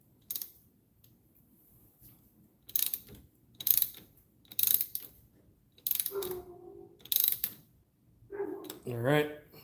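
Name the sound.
ratchet tightening battery terminal clamps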